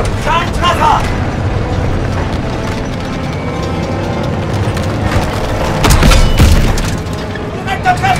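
Heavy tank shell blasts in a Call of Duty WWII tank battle, a booming hit swelling loud around the six-second mark over constant rumbling engine and battlefield noise.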